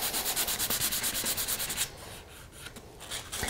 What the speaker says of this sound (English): So now I just take a little piece of sandpaper. I'm going to sand it a little bit.